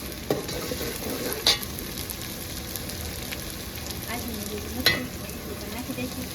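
Onions frying in a pan for a chicken curry, with green chili and ginger, give a steady low sizzle, and a couple of sharp stirring clinks stand out near the start and end.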